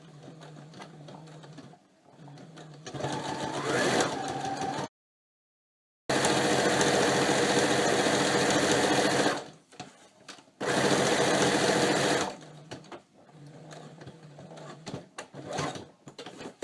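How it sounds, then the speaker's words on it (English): A sewing machine stitches thick, durable fabric for a cornhole bag, whirring steadily in loud sustained runs that stop and restart, including one brief silent break. "Now what I do is I flip it over and I sew it again."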